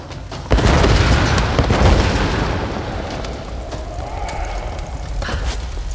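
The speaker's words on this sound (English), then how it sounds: "Damn, explosions all around us." Loud explosions in the Tomb Raider 2013 video game: a heavy boom strikes suddenly and rolls into a sustained rumbling roar of debris and collapse.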